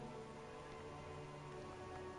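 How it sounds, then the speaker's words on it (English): Steady rain falling in the video game Disco Elysium, a constant soft hiss of drops with no breaks, heard alone at low volume. "This rain will not let up anytime soon."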